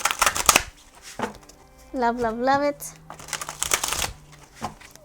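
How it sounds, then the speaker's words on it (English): Oracle card deck being shuffled by hand, a brief crisp riffle between bursts of talk, close and fairly loud, with a person chatting before and after. "All right, let's shuffle. Yep, great shuffle."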